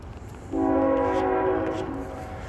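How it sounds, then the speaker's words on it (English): A CN Canadian National coal train at a rail crossing in Trimble, Tennessee sounds a sustained multi-tone horn that rings out loud and steady for about two seconds over a low rumble of the approaching train, with no talk. "And here comes the train, right here."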